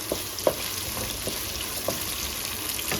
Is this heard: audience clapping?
no